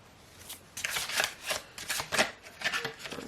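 A deck of cards is shuffled in a series of quick riffling bursts, close up and crisp, with short gaps between them and no one speaking.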